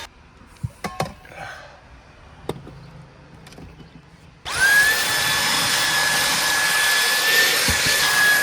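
Vacuum cleaner running inside a hot Tesla car: quiet rustling and a few knocks, then the motor switches on abruptly with a loud steady whine that continues to the end.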